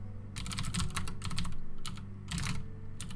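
Steady typing on a computer keyboard, clusters of quick light key taps in uneven bursts over a low background hum, close and fairly quiet.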